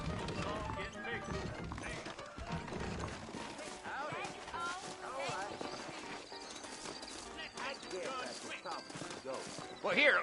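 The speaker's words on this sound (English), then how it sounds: "I got the horses saddled up and ready out front." Rhythmic hoof clip-clop of saddled horses trotting in Red Dead Redemption 2, steady under music and a talking voice, with a horse whinny near the end.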